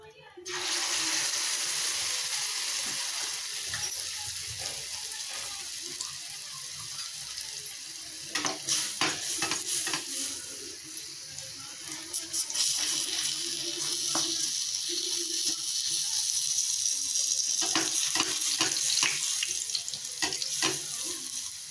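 Shaped urad dal vadas with a hole in the middle slide into hot oil and fry with a steady, broad crackling sizzle and bursts of bubbling. The sound is close and loud, with no talk.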